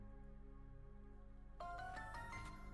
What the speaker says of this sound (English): Why do you have need to have a notification sound?